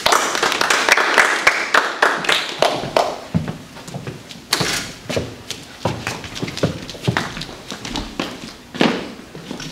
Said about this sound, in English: Please give a round of applause for Raj Patel.